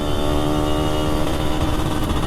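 A Yamaha RX King motorcycle under restoration at a Makassar workshop runs with a steady, buzzing engine drone, close and continuous with no speech.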